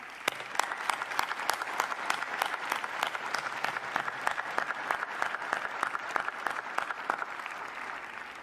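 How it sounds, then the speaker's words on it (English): An audience at a 2021 spring commencement for UNC Hussman claps for the ceremony team, crisp individual claps in a brisk, even patter at moderate distance, alone and without voices. "please join me and a round of applause for this amazing team"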